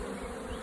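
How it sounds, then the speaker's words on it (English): Honey bees swarm and buzz around an open backyard beehive with a loose, unsealed lid, a dense steady drone filling the brief moment. "it's causing the buzzing sound in my yard to increase as all these bees think that they're gonna come and steal honey from another hive"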